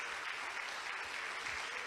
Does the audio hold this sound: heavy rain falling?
no